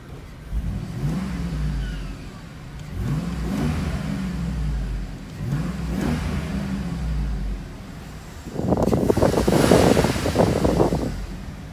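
A 2004 GMC Yukon Denali's engine idles through its exhaust, then revs three times in a regular rhythm before a louder, rougher burst of throttle near the end, close and alone without voices.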